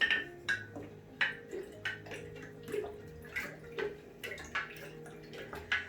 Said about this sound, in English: I'm going to stir it so it's all dissolved.